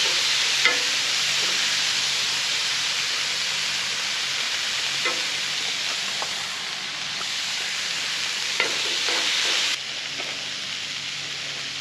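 Meat and vegetables sizzling in a cast iron pot for chili cooked outdoors by a lake, a loud, continuous hiss and crackle with occasional utensil knocks, and no one speaking.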